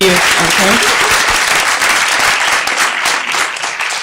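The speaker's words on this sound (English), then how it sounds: "I just want to give him an extra round of applause" Loud round of applause at a recovery court graduation ceremony for graduate Herman, steady dense clapping that fills the clip, with a voice talking over the start.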